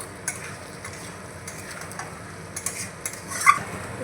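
Diced potato with ground coriander and other powdered spices is stirred in a frying pan over a low-to-medium flame. Faint, sparse scrapes and light clicks sound over a quiet background.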